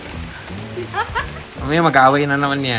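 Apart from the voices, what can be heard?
rain falling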